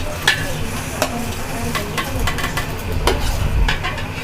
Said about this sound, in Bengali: তো এখন আমরা চালটা দিয়ে দিচ্ছি।